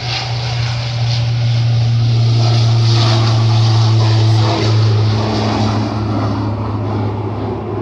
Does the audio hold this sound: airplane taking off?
yes